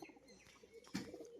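A pigeon, a long-bodied crested fancy breed offered for sale, coos softly amid faint background noise, with a slightly louder burst of calling near the end.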